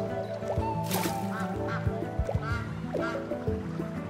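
Ducks quack in the video game SCHiM, several close, loud, repeated calls in an irregular patter over a layer of sustained background tones.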